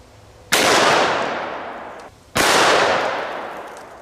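A Smith & Wesson 629 .44 Magnum revolver with a 6.5-inch barrel fires 300-grain jacketed hollow points at an Atlas stone: two loud, sharp shots about two seconds apart, each trailing off in a long ringing decay, with no talking.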